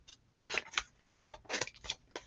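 Scissors snip through folded paper to cut a snowflake, giving quiet, crisp clusters of cuts in an uneven rhythm, close and alone.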